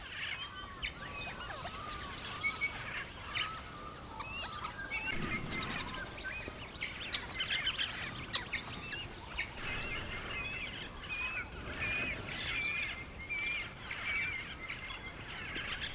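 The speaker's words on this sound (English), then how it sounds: "with gentle morning songs from the birds to wake me from deep and restful sleep" Gentle morning birdsong: several birds chirp and call repeatedly at a soft, moderate distance over a quiet background, with some turkey-like gobbling notes mixed in.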